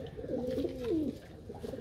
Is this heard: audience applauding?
no